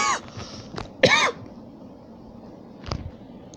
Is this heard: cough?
yes